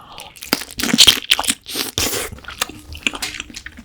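Crunchy, wet bites into soy-marinated raw crab (ganjang gejang) eaten with white rice, several close, loud crackling chomps clustered in quick succession before fading into quieter chewing.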